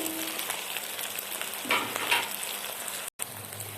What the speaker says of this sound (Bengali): সমস্ত মশলা আমি ভালো করে ভেজে নিয়েছি।